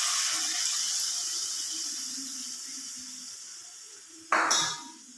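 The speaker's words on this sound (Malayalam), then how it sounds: "പുളി പിഴിഞ്ഞതുകൂടെ ഇതിനകത്തോട്ട് ചേർത്ത് കൊടുക്കുക" Squeezed tamarind water is poured into a pan of okra curry, a steady close splashing stream that slowly thins, then a brief louder splash near the end.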